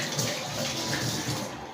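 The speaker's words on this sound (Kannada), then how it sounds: "ನಾವು ಇದನ್ನು ನೀರು ತೆಗಿಯೋಣ." Water pours steadily as cooked rice for Hyderabadi dum biryani is drained through a strainer, a continuous close splashing rush with no talk over it.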